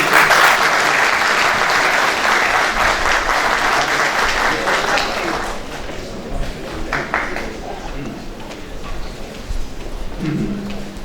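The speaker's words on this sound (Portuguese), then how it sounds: "Salva de palmas." At a solemn induction ceremony for six new members, a hall breaks into dense, loud applause that holds for about five seconds, then thins into scattered claps and room noise with voices in the background.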